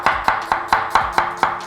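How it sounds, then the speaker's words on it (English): A knife chops a halved onion finely on a board, seven crisp, evenly spaced strokes in a quick regular rhythm, close and clear with no talking. "Finely chop it."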